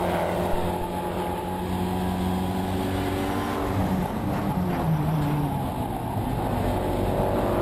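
A Mitsubishi Lancer Evolution track car accelerates out of a corner on a circuit, its engine droning steadily and rising in pitch, heard from inside over constant road and wind noise.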